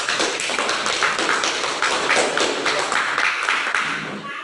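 Classroom applause from students after a group presentation on marine ecosystems, a dense continuous patter of many hands clapping for several seconds, steady and fairly loud, fading slightly at the end.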